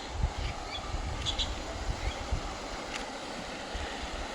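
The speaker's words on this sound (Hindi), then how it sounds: "क्या पानी की आवाज़ है" Water rushing along a mountain stream near a remote Uttarakhand hill village, a steady broadband wash that fills the scene without pause, with faint wind and occasional bird chirps above it.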